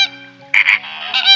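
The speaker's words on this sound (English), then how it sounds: "Flamingo." A flamingo honks twice, in short, loud, goose-like bursts, over a quiet sustained musical tone.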